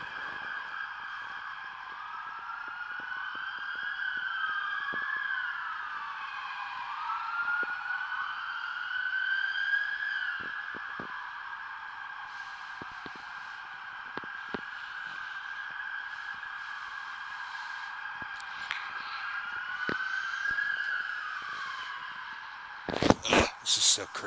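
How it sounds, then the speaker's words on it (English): An emergency siren wails up and down steadily in downtown Los Angeles, moderately distant as if echoing through city streets, with a few sharp clatters at the end. "Sorry about that siren. This is downtown LA."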